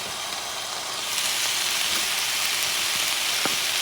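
White and green onions with mixed vegetables sizzle steadily in a hot stir-fry pan, a loud, even crackling hiss that swells slightly after the first second and carries on alone.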